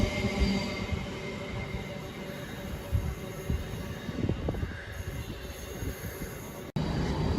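A Class 66 diesel locomotive, number 66758, rumbles through Nuneaton station toward Wellingborough, giving a steady rolling roar with wheel and rail noise, moderately loud and distant.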